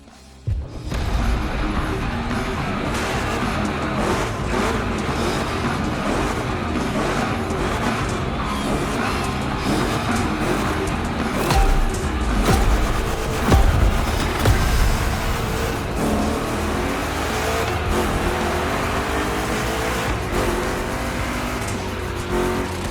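A Chevrolet 3100 big block engine roars steadily through a gymkhana course in The Crew Motorfest, loud and close, with revs rising and falling through rough turns and occasional tire squeal.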